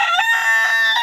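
A White Leghorn rooster crows loudly and close by, one long harsh drawn-out call with a strained, wavering tone.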